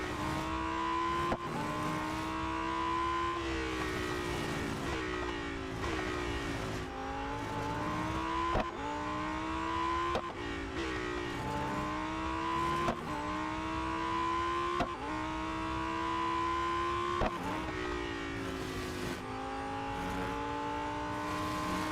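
A Lamborghini Huracan STO races in Real Racing 3, its engine revving loud and steady with repeated rising pitch sweeps and sharp gear-shift breaks, tyres occasionally squealing, alone without talk.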